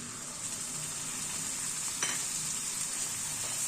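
Pumpkin curry with ginger paste sautés in a pan over low heat, giving a steady, fairly quiet frying sizzle with one brief scrape of stirring midway.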